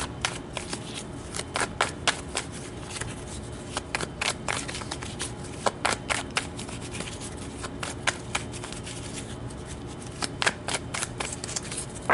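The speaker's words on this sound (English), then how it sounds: "let's pull some tarot and see what comes out with this card here" Tarot cards are shuffled by hand in a long run of quick, crisp riffles and flicks, close and clear, in irregular bursts over a quiet room.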